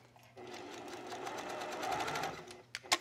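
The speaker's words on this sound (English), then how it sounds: "I'm gonna stitch all the way up to the top." A sewing machine runs steadily while stitching up the V neckline of a little black dress, a continuous close whirring that stops near the end, followed by a couple of brief clicks.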